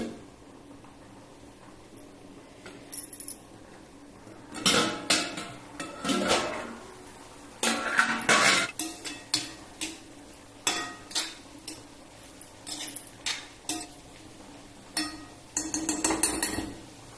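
A pot of cowpea leaf curry is handled with irregular metallic clanks, clinks and scrapes, including a lid being set on the pot, in close bursts over a quiet background.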